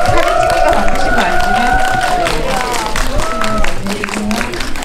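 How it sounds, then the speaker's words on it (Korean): Audience applause greets guests entering a Korean film screening and talk event, a steady dense clapping wash holding for the whole stretch while a voice speaks over it. "큰 박수로 맞이해 주세요"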